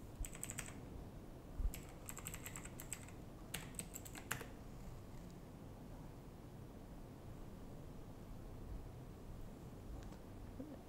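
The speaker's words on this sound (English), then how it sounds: "we can try to type something." Short bursts of key clicks on the keyboard of a Teclast X22 Air all-in-one PC, several quick clusters of taps early on, then near silence with a faint steady hiss behind, close and quiet.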